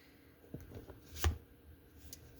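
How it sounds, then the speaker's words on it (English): A deck of tarot cards is shuffled at close range in a few soft riffling bursts, with one sharper slap in the middle. The rest is quiet, with no speech. "as I'm shuffling these cards"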